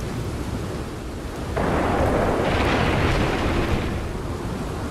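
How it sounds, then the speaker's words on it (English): A thunderstorm rolls through the Red Dead Redemption 2 game world as a steady wash of rain-like noise, with a louder rumbling swell of thunder partway through that stays dense and broad to the end. "The thunderstorms, oh my god."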